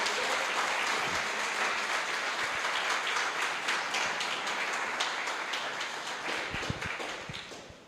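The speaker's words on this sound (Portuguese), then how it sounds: "Vamos dar um aplauso a Jesus aí, me ajuda." A church congregation applauds during a sermon, a dense wash of many hands clapping at once that holds steady and loud for several seconds, then thins and tapers off at the end, with no talk over it.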